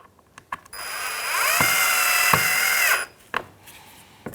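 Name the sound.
power driver fastening Phillips screws into plastic grille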